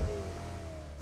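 A motorbike engine in a video game revs steadily at a moderate distance for about a second, fairly faint and alone, with no talking.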